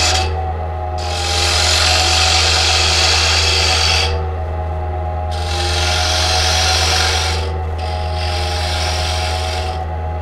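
A lathe turns a polymer clay top while a tool tapers it toward the bottom, with a steady motor hum beneath bursts of loud scraping and rasping. Two long cutting passes are followed by a shorter one.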